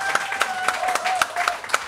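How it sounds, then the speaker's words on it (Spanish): A comedy show audience claps in a steady rhythm of sharp, evenly spaced beats over a faint tonal background as a comedian is welcomed on stage. "Fuerte el aplauso,"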